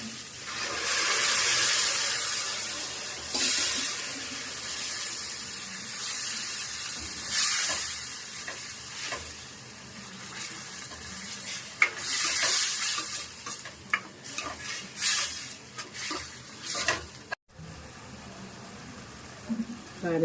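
Ginger and garlic sizzle and fry in a pan for a simple chicken curry, with frequent spoon-stirring scrapes over a steady hiss, close and fairly loud for the full stretch; a voice talks faintly at times.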